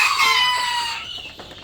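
An Egyptian Fayoumi rooster on a chicken farm crows loudly and close by, one drawn-out call that fades away at the end.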